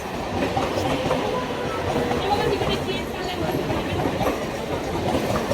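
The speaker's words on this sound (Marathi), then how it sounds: "ट्रेनचा आवाज." A train rumbles past close by with continuous clattering of wheels on rails, steady and loud, with faint voices in the background.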